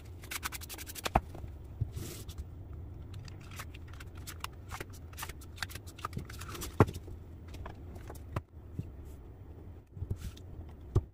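Cards are shuffled and handled for a card reading, close and soft, with quick riffling flicks, slides and taps scattered throughout.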